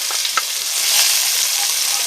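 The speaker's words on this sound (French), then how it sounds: "Là, je fais revenir les oignons." Onions gently sweating in a hot pan, a soft continuous sizzle with small crackles and occasional stirring scrapes, close and steady.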